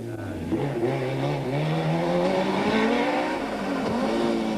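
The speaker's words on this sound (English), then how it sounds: "Serge Damso and Vito Bonafide put their car through its paces." A rally car in the 1988 Tour de Valvoline, crewed by Serge Damso and Vito Bonafide, revs loud and close through tight traffic circles, its engine note rising and falling with the throttle, tyres scrubbing at moments.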